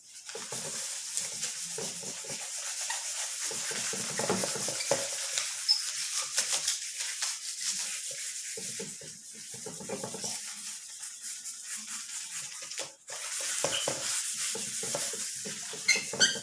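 Steady rubbing of a cloth or duster erasing writing from a classroom board, continuous broadband scrubbing strokes at close range with a brief pause near the end, no talk.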